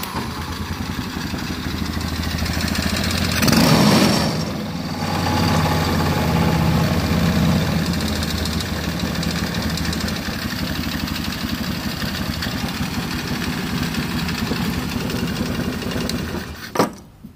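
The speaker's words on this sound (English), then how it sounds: "it is a noisy little bastard without the muffler on" Chinese go-kart with a swapped engine idling with no muffler fitted, a loud, steady, rough drone running throughout with a brief louder swell near the start and a sharp clatter at the end.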